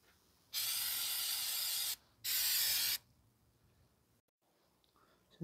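Two loud, close bursts of brake cleaner spray hiss onto the brake fluid reservoir area of a 2010 Subaru Outback 3.6, the first longer than the second, followed by a faint mechanical click.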